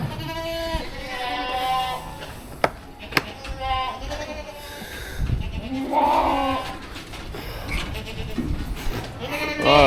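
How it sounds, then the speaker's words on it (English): Goats close to kidding bleat repeatedly inside a farm barn, several overlapping calls near and loud, with scattered knocks and clatter and a bit of background voice. "I've got some goats in here that are gotta be getting close to kidding"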